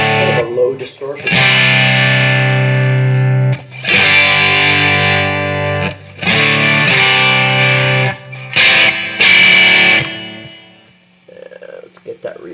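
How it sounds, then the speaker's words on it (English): An electric guitar, a Squier Telecaster run through a Mr. Boost distortion pedal, plays loud, sustained distorted chords in several bursts with short pauses between them. "Now this Mr. Boost, that's my main distortion."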